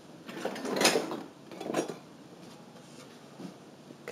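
Kitchen drawer opened and closed while fetching a knife, with two rattling bursts of a drawer sliding and utensils clinking, followed by quieter handling noise in a home kitchen during baking.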